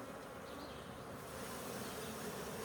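A steady, fairly loud drone of honey bees swarming near an opened backyard hive, an unbroken buzzing hum that holds evenly throughout.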